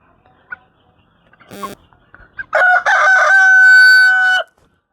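A rooster crows loudly and close by in a chicken yard, one long sustained call after a few scattered clucks and small knocks.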